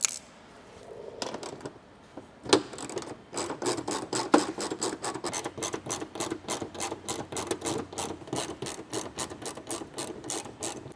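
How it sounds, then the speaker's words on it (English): A hand ratchet backs out 10mm fender liner bolts on a Toyota 4Runner, fast even clicking runs of the pawl after a few slower starts, close and steady, no one speaking. "we're gonna go ahead and remove these 10mm bolts right here holding the fender liner to the bumper first"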